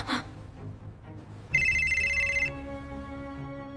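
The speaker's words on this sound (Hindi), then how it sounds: "अचानक हया का मोबाइल बज उठता है।" A mobile phone ringing in a dramatized story scene: a bright electronic ringtone melody sounds loud and steady for about a second, then lingers as softer sustained tones over a background music bed.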